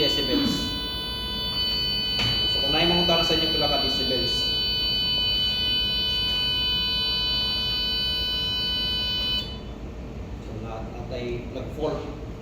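A fire alarm panel gives off a steady electronic fault buzzer tone that holds for about nine seconds before stopping, while a person talks over it.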